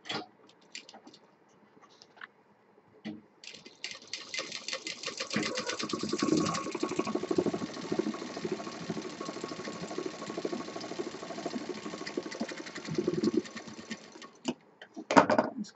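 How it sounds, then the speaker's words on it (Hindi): Sewing machine stitching the bottom seam of a handmade handbag, a steady whirring run of rapid stitches lasting most of the stretch, with brief pauses and starts at either end, close and fairly loud. "इसको हम सिल देंगे।"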